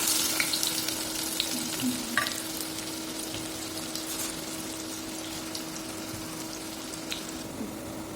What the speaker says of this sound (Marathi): तेल गरम झाल्यावर बारीक चिरलेला कांदा टाकला.